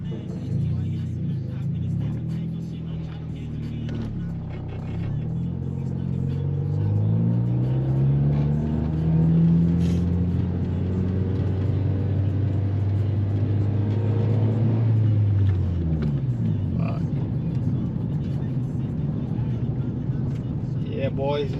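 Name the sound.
Honda Civic driving rough with a failing clutch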